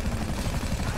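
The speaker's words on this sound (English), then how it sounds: "Another chopper." A helicopter in the video game GTA V thrums with steady low rotor chop across a short one-second stretch, loud and continuous without any pause.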